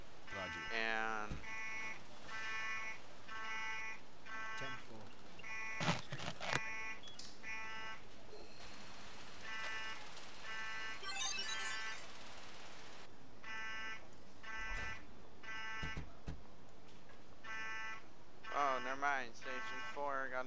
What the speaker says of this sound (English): got a general fire alarm sound